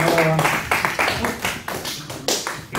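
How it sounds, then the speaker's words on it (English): Audience clapping after a children's Bible story performance, a short burst of quick overlapping claps, fairly close and moderate, with a voice briefly at the start. "give her a clap"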